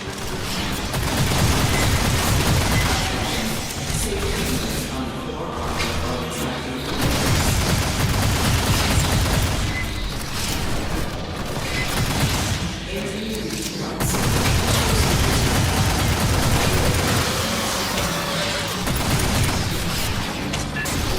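Gunfire in the Aliens Fireteam Elite video game: sustained bursts of automatic weapon fire and booming blasts, loud and dense, in roughly three long waves with brief lulls between them, with voices speaking over the combat.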